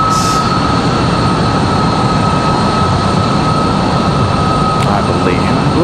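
An Embraer E175 airliner at Raleigh-Durham airport gathers speed, a loud sustained engine roar with a steady whine tone running throughout and a brief high chirp near the end.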